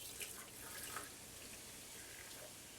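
Liquid poured out of a can into a kitchen container, a soft steady trickle and splash lasting a few seconds, close but quiet.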